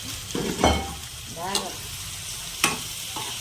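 Eggplant pieces land in a hot frying pan for a Telugu eggplant and chana dal masala curry, hissing and sizzling steadily with a few scraping stirs and clinks close by.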